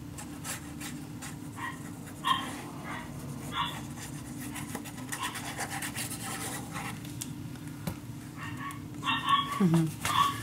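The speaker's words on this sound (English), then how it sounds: "I hear the barking downstairs" A dog barks and pants at a distance, mixed with scratching and rubbing noises over a low steady hum.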